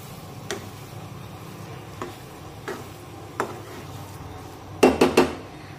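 A spatula stirs soft semolina sheera in a pan, giving a few slow, separate scrapes over a faint sizzle, then three quick metallic knocks against the pan near the end.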